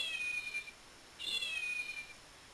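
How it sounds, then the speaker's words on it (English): A Build-A-Bear plush toy cat gives two electronic meows, each a short, thin, high-pitched mew with a brief gap between them, quiet and close. "This is a Build-A-Bear that meows."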